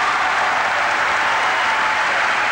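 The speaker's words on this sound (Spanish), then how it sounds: "Y el aplauso, esta ovación es para la presencia de Vladimir Kachenko en la cancha." A large arena crowd at a 1986 world championship volleyball match between the USSR and Cuba claps in a dense, sustained ovation, loud and steady throughout with no talk.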